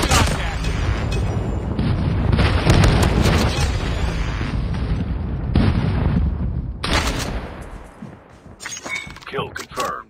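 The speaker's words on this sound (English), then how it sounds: "Friendly airstrike incoming." Loud, dense airstrike explosions from the Call of Duty video game roar in overlapping booms for several seconds, then cut off into quieter game sounds with occasional crackling bursts near the end.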